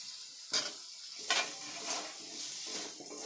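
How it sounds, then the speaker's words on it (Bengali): Cut potatoes go into oil-fried spices for a Bengali-style chicken kosha, giving a soft sizzle with a few quick stirring clatters, faint and close, and no talking. "কেটে রাখা আলুগুলো দিয়ে দেব।"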